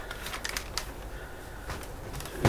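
Irregular clicking of keys being typed on a keyboard, close by, ending with a louder clunk.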